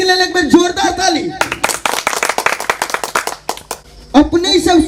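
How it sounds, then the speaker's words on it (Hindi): A small audience claps for the Asgaruwa nach company, a Maithili dance troupe, in a burst of sharp, uneven handclaps lasting a few seconds, with a voice speaking before and after. "असगरुआ नाच कंपनी के लेल एक बार जोरदार ताली।"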